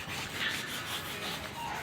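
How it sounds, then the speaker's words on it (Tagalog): Lacquer putty on a door is hand-sanded with 120-grit sandpaper for a Duco finish, giving a steady, continuous dry rubbing scrape that runs unbroken at close range with no voices. "So gumamit kami ng liha."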